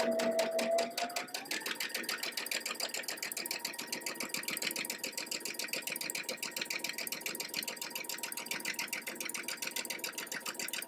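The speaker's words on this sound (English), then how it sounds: "I'm going to go back down and stitch this with a real 1/4 inch" A sewing machine stitching a quilt block with a quarter-inch seam, its motor spinning up and then running steadily in a fast, even mechanical rattle, close and alone.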